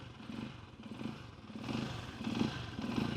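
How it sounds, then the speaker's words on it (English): A Janus Halcyon 250 motorcycle engine idles unevenly while still cold, its throttle blipped in a few swells that lift the low, throbbing exhaust; heard fairly faint and close, with no voices. "when you're first starting the bike up, sometimes it takes a little bit of blipping the throttle to keep it running until it's warmed up"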